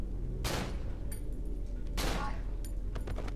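Two heavy shotgun blasts in the video game Cry of Fear ring out roughly one and a half seconds apart, punchy and close, with light clicking and rattling in between.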